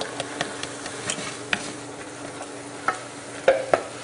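A spoon stirs thick gougère cheese puff dough in a hot pan on the stove, with a steady low sizzle under scattered scraping knocks and clacks against the pan, close and fairly loud, and no talking.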